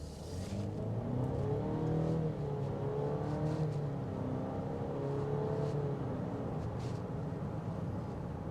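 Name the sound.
2025 Cadillac XT6 turbo engine accelerating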